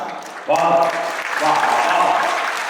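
Thin, scattered applause from a poetry recital audience, brief and modest, mixed with voices talking over it.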